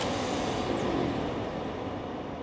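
A Dodge Hellcat Redeye Jailbreak muscle car engine gives a loud, steady, broadband rumble that holds at an even level throughout, with no voices over it.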